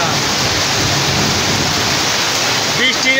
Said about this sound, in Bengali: এদিকে শিল পড়ছে, শিলা বৃষ্টিতে আমগুলো নষ্ট হয়ে যাচ্ছে বন্ধুরা